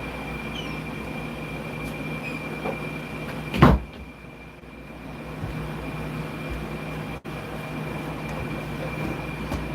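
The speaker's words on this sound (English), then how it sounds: "I need to close the door outside" A door being shut, a single sharp thud partway through with a faint click later, set against a steady background hum.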